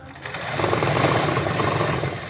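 An electric sewing machine stitches blouses with a steady, continuous mechanical whir and a rapid needle chatter. It runs close and fairly loud without a break, and no one talks.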